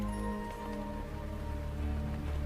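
Steady rain falling on a surface at night, a dense even patter of drops with no voices, continuous and moderately close.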